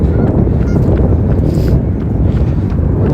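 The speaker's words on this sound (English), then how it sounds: "this whole thing is just packed with geese" A large flock of geese packed together near the Washington Monument, honking in a continuous busy chorus under steady wind rumble across the whole stretch.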